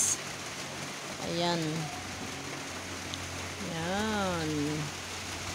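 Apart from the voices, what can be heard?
heavy rain falling on a foggy morning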